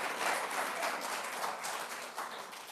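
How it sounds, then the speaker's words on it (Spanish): A church congregation applauds through a sermon, giving a steady, dense wash of clapping that holds at a moderate level with no voices over it. "denle un aplauso al Señor"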